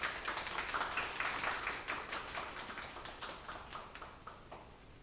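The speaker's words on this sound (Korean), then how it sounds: "나오실 때 큰 박수로 맞이해 주시길 부탁드립니다" A congregation at a memorial prayer gathering for the Itaewon disaster applauds to welcome a bereaved father to speak; the rhythmic clapping sounds somewhat distant and slowly fades.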